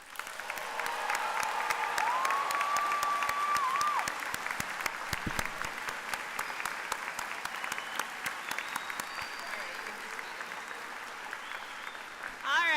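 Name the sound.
applause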